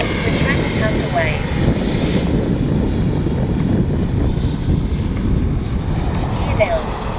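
Freewing 80mm F-5 Tiger II RC jet flying at half throttle, a steady loud rushing whine of the ducted fan that holds throughout, with a voice briefly calling out over it.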